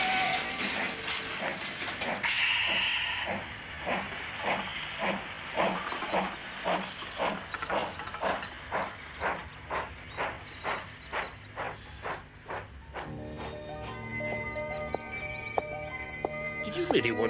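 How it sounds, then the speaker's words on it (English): A steam train pulling out of a small country station: rhythmic chuffs start slow and steady, roughly one per half second, then give way near the end to a sustained whistle-like tone, with clanks and hiss throughout. "Stand back, please. Train's about to depart."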